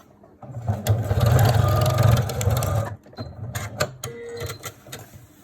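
A sewing machine stitches a face covering in a loud, fast mechanical whirr for a couple of seconds, then stops and restarts in short bursts with clicks and rattles, with no voices.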